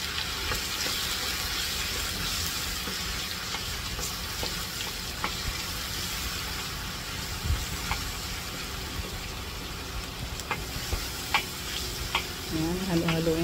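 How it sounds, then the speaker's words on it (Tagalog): Garlic sautéing in a pan for beef caldereta, a steady broadband sizzle with occasional sharp clicks of a utensil stirring, fairly close and continuous with no talking. "magigisa na po tayo ng bawang. Papupulahin lang po natin ng kaunti."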